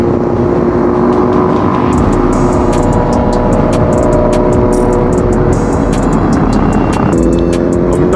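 A Jet 900 superbike in a long lineup of superbikes rides past at low speed, a loud close engine drone with a steady buzzing tone and small shifts in pitch.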